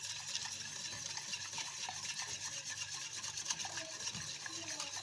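Banana being mixed into a dessert mixture, a steady close scraping and rubbing of a spoon working through the batter in a bowl, continuous and moderately soft.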